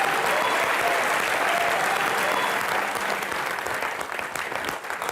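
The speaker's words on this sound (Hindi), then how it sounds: "एक बार जोरदार तालियां" Loud, dense applause from a studio audience on a comedy talk show, sustained at full strength for several seconds before thinning slightly toward the end.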